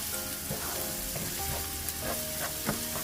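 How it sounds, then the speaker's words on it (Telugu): Ginger garlic paste fries in a pan of oil, giving a continuous close sizzle with occasional spoon scrapes and crackles and no talking. "ఇప్పుడు చూడండి అల్లం వెల్లుల్లి పేస్ట్ బాగా ఫ్రై అయిపోయింది"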